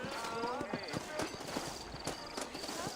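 Steady clip-clop of horse hooves trotting at a moderate pace in the video game Red Dead Redemption, with faint background voices and ambient game sounds.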